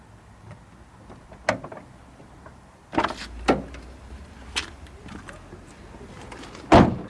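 Someone gets into a car, producing a few sharp, close door clunks and clicks separated by quieter handling noises, with the last slam the loudest.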